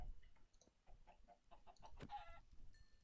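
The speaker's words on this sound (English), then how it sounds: "Hello, chickens." Chickens clucking in the Minecraft video game, several soft, repeated clucks in a steady run at moderate distance, with a brief sharper squawk near the end.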